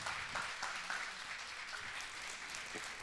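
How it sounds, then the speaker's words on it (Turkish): Steady applause from a crowd, dense clapping filling the whole stretch without a break. "Sevgili kardeşimi Çoban Ali şöyle bir güzel alkışla alalım buraya"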